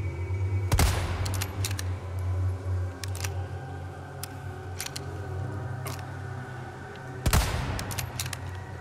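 Gunfire in the survival horror game Resident Evil 4 Remake: two loud, sharp shots about six seconds apart, with fainter clicks and taps between them over a steady low ambient hum.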